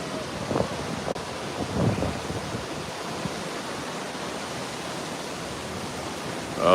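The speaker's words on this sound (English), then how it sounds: "Here's a nice gust." Wind gusting during Hurricane Ian at a resort lodge, a steady broad roar buffeting the microphone, building into a stronger rush at the end.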